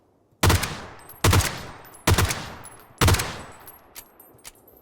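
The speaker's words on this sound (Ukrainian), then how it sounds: "Дуже неефективно я стріляю." Four separate bursts of gunfire from the player's weapon in the video game PUBG, each a loud, close, sharp volley with a short ringing tail, spaced about a second apart with no talk.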